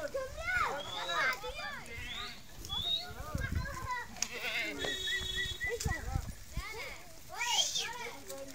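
Mountain goats and sheep bleating repeatedly outdoors in the hills of Mansehra, Pakistan, several overlapping calls at moderate loudness, with people's voices and background noise mixed in.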